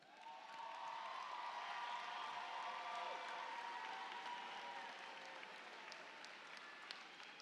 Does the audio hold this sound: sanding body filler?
no